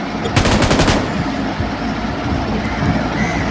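A short rapid burst of UMP submachine gun fire in a mobile shooter game rattles out near the start, followed by a loud, busy in-game background.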